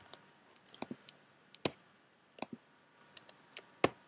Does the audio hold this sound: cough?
no